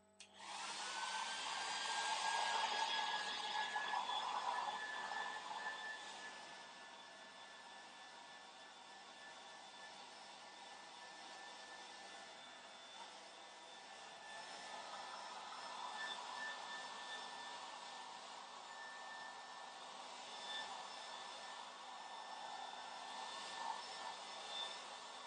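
Hair dryer running steadily on high while blow drying hair, a loud continuous whoosh with a faint whine that eases slightly after the first few seconds and holds for the rest, with no talking.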